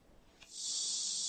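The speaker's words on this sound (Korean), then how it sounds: "매미 울음소리가 요란한 도심 아파트 근처 공원입니다." Cicadas in the trees of an urban park beside apartment buildings, a bright, steady buzzing drone that switches on abruptly and holds loud and sustained, with no voices.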